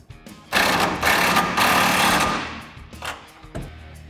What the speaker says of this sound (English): We'll grab a 24mm socket on our nut side, and then get a 21mm socket on our bolt side. And we'll tighten this up a little bit at a time